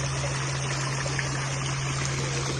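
Water flowing steadily in an outdoor water and fire feature in Madinah, a dense continuous trickling wash with a low steady hum underneath, close and even throughout.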